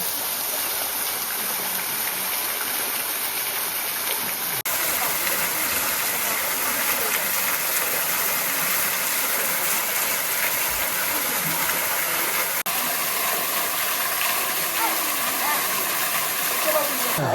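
Warm waterfall in the Azores, a steady, full rush of falling water close by, continuous and even throughout, with voices faintly under it.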